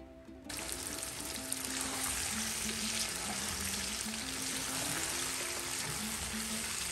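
Meat sizzles and fries steadily in a pan with a dense, continuous crackle and a low hum underneath, staying loud and close throughout with no talking.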